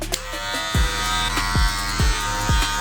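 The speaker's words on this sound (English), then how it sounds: "get your clipper oil, drop them on your blade, turn on your clipper" An electric hair clipper runs just after oil is dropped on its blade, a steady close buzz with a few brief dips in pitch as it hums on its own.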